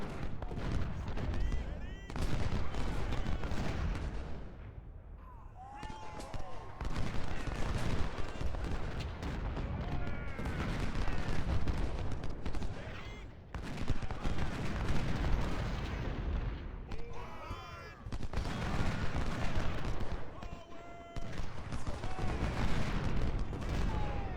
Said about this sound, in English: Despite the short-range artillery fire.